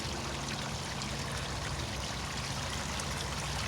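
Small backyard fish pond waterfall trickling and splashing in a continuous, even wash of running water, nearby and steady with no voices.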